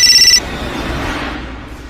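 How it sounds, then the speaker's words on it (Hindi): A phone rings in a Hindi horror audio story, a short, loud electronic ringtone burst lasting under half a second before cutting off into a dim rumbling background. "और साथ ही शुरू हुआ निकिता के फोन का बजना"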